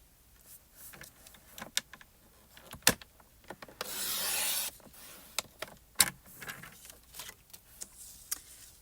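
A Spellbinders paper trimmer blade slides through card stock in one sustained rasping cut of about a second, set among scattered light taps and rubs of paper and tool being handled nearby.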